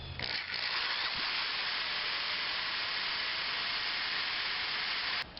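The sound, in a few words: drilling with newly sharpened drill bit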